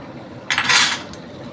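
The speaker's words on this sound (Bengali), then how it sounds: "এখন নাড়ানাড়ি করব একটু এরকম করে মাঝে মাঝে একটু নেড়ে দেবো" A spoon scraping and clinking against a pan while cauliflower stalk curry is stirred, one short metallic burst of scraping with a faint second tap after it, close by in a quiet kitchen.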